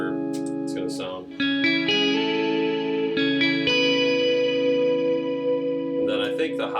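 Electric guitar run through a POG octave pedal with reverb, playing sustained chords thick with layered octave tones and a lingering wash that rings between attacks, close and fairly loud.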